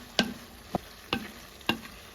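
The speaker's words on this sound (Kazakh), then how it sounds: "Барлығын жақсылап бір қуырып алдым" Potatoes and bell pepper fry in a pan under a low, steady sizzle, with four sharp spatula scrapes spaced roughly half a second apart as the pieces are stirred.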